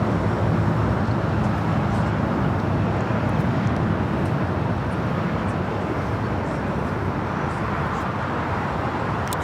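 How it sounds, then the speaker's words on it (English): An airliner arriving at LAX from San Francisco roars steadily nearby, a broad, continuous jet rumble holding at high loudness throughout with no talk. "This flight coming in from SFO."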